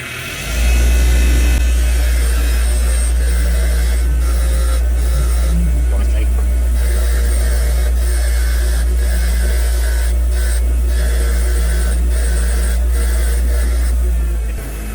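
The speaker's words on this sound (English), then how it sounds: "Easiest to use a bench grinder like this." A bench grinder spins continuously, scouring rust and grime off rear brake parts from a 2014 Toyota RAV4, a loud steady motor whine and hum running throughout with scraping contact noise layered on top.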